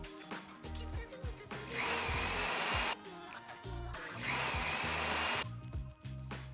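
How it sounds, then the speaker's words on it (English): Power drill boring small anchor holes into drywall for a curtain rod, two long loud whirring bursts separated by short pauses and brief revs, close and alone without talk. "y'all gonna get your drill, and we gonna drill a tiny hole to put our anchors in first"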